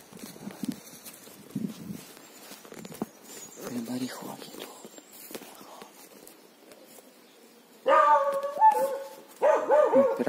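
A dog barks during a mushroom-picking hike in a Carpathian forest. Several loud, close barks come in quick bursts near the end, after quieter rustling and people talking.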